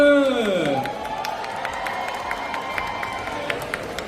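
At the Experience Macao celebration, after a custard tart decorating demonstration, a voice calls out over the start, then a crowd keeps up a lighter, spread-out mix of clapping and cheering at moderate distance.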